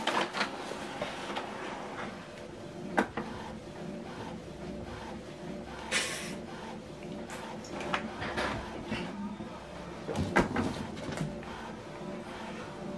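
An Epson XP-5150 inkjet printer printing a vertical alignment pattern, with a soft mechanical whir, repeated print-head shuttling and intermittent clicks and paper feed rustles, quiet and close.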